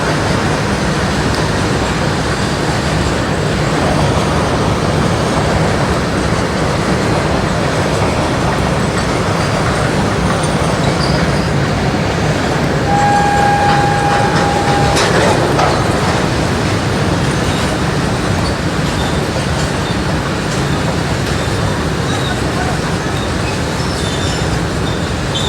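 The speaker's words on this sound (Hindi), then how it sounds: "इतने में वो ट्रेन जा रही है" A train passes near an outdoor religious gathering in India, a loud steady rumble of rolling wagons lasting throughout, with a short high whistle-like squeal midway and no talk over it.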